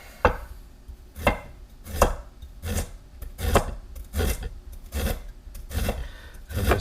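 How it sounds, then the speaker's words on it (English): A knife slices fresh ginger into thin coins on a board, about a dozen crisp evenly spaced cuts with soft scraping between them, close and fairly quiet, no voices. "I'm just making little slices, okay? Kind of a coin shape to them. Nice and thin."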